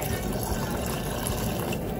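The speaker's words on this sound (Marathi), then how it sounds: "त्याच्यात थोडं आपण आता पाणी ॲड करून घेऊया" Steady stream of water pouring into a cooking pot of curry, a continuous rushing splash at close range with no talking.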